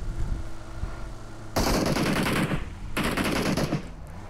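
Automatic gunfire from a whole squad in a mobile battle-royale shooter, two long dense bursts of rapid shots, loud and close, separated by a short pause and preceded by quieter game noise.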